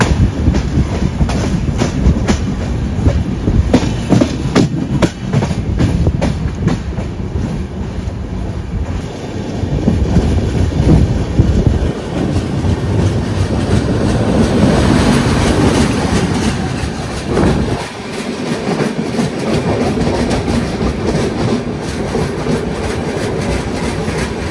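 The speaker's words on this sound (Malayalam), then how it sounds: "ഡൽഹിയിൽ നിന്ന് ചെന്നൈക്ക് വരുന്ന തമിഴ്നാട് എക്സ്പ്രസ് ആണ് ഇപ്പൊ ആ കണ്ടത്" Tamil Nadu Express running from Delhi toward Chennai rumbles past on the rails, a loud, steady roar of wheels and wagons with rhythmic clatter that carries on throughout, the noise thinning briefly near the end before building again.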